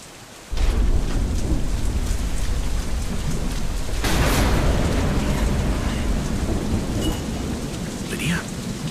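A thunderstorm in the video game Deadlight breaks in suddenly, with loud, dense rain hissing steadily and a heavy rumble of thunder rolling through, close and continuous with no voices.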